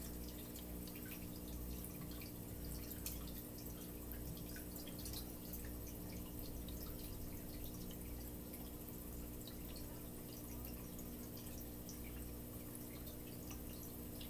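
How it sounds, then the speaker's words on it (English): Water trickles and drips steadily as it is added to a home fish tank, a faint, continuous splashing with scattered small drops over a low background hum. "So what I'm going to do is add the water to this tank right here."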